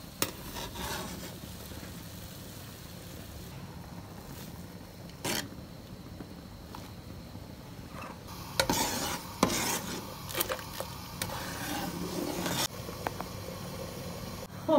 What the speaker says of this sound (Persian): این کفاشو من جدا کنم.